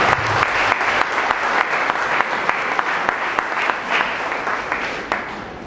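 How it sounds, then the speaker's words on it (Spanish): Audience applause at a seminar held at a Christian university: a steady, dense clapping from a room full of people that runs without a break and fades slightly toward the end, with no talking over it. "Damos un aplauso a todos ellos, por favor."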